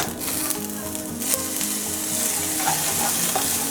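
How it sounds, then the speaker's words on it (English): Black chickpeas and turnips cooking in butter in a pan over slow heat, a steady close sizzle and bubbling with light stirring, and no voices. "on slow heat we're gonna let it simmer for 5-7 minutes."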